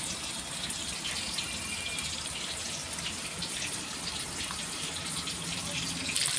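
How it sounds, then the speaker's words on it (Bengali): A tap runs in a steady, moderately close stream while young goat meat is washed, an even gushing splash that continues unbroken throughout. "কচি পাঁঠার মাংস এখন ধোয়াধুয়ি চলছে।"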